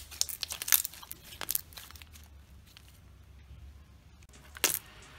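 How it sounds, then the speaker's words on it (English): Glossy, clicky slime being squeezed and pressed, giving sharp close clicks and pops in quick bursts at the start and again near the end, with quieter squishing between and no talk. "The slime is so glossy and so clicky"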